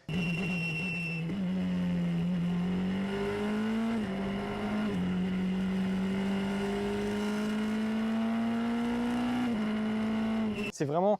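A Formula Renault single-seater race car with a screaming engine revs hard on a circuit. It is heard from close by as a loud, rising whine that drops briefly at each gear change and then climbs again, with a sharp burst at the end.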